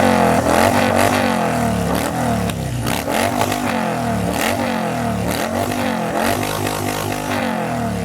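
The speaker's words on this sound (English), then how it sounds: "Corrine and I will be test riding some motorcycles" A 2021 Harley-Davidson Road Glide V-twin revs in loud, close, continuous throbbing pulses, rising and falling with the throttle over a rough, rumbling idle, with no voices.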